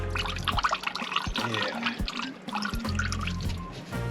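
Engine coolant drips and trickles from a 1989 Chevy K1500 truck during a heater hose replacement, irregular close splats and dribbles with a brief spoken word.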